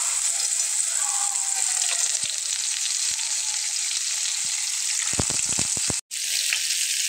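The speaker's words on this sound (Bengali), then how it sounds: "মাছটা কিন্তু ভাজা হচ্ছে" Pangas fish belly pieces fry in a little oil, a dense, steady sizzle at close range with a quick run of small clicks and a brief dropout near the end.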